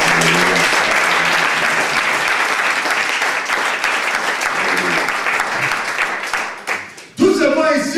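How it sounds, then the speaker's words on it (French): A church congregation claps loudly and steadily for about seven seconds during a French-language sermon, dense and close, before the applause breaks off and a voice begins. "Applaudissez un peu"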